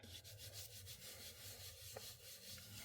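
Ink lightly rubbed across the raised surface of a 2D embossing folder for a paper-crafting kit, a soft, steady scratchy rubbing that runs continuously and quietly throughout with no voices.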